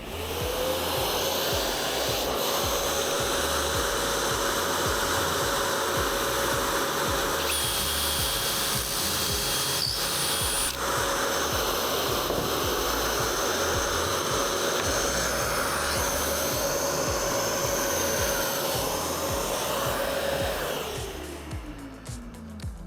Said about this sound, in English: So you should just put that in, clamp it down, slide in the dust collector.